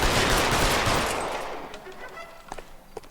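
A loud burst of gunfire in the detective video game L.A. Noire rings out and slowly decays, followed by a few sharper, fainter shots near the end.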